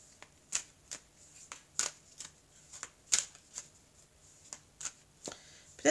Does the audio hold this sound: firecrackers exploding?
no